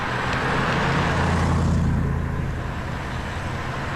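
Low, steady engine rumble from a Triumph Stag V8 heading off in a convoy of Triumphs, a continuous throaty drone with road noise that eases slightly toward the end, no talking.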